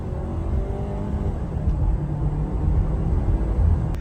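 A 2024 Ford Edge accelerating around a corner, heard from inside the cabin as a steady, loud low engine drone and road rumble that builds slightly in intensity, with no talking.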